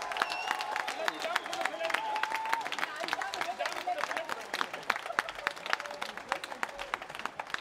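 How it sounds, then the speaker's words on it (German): Audience at an open-air theatre applauding the bar staff, with crisp, closely spaced claps from a nearby crowd and cheering voices over the top throughout. "Deswegen einen ganz, ganz großen Applaus an das Barpersonal!"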